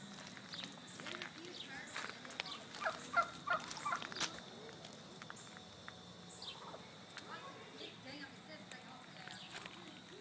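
A turkey gobbles in a noisy farmyard at an alligator farm while people talk nearby and footsteps shuffle in the background.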